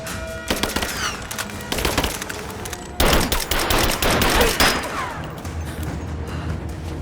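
Gunfire in the Rise of the Tomb Raider video game, rapid bursts of automatic fire and single shots rattling close and loud in irregular clusters, with a heavier barrage after the midpoint that tapers off.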